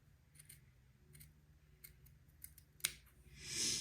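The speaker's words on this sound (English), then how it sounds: "this will take me a minute to get this trimmed all the way around" Scissors snip along a baby day gown's neckband seam, trimming it close: several short, faint, crisp cuts scattered across the clip, close by and quiet, with no talking.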